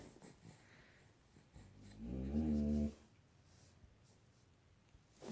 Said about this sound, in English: Why is he growling at the crucifix?